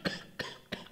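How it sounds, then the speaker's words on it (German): Three short coughs in quick succession, close and fairly quiet. "Ich krieg jetzt schon wieder Husten an."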